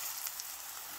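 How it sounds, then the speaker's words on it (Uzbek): Chopped onion fries in vegetable oil in a pan on a gas stove, giving a faint, even sizzle with soft crackles throughout. "Gazga skavorodkani qo'yib, o'simlik yog'i solamiz, piyoz solib qovuramiz."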